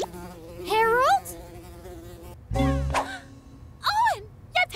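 A cartoon fly buzzes in three loud, wavering bursts, each rising and falling in pitch like a comic sound effect, separated by a short cough-like thump and a pause.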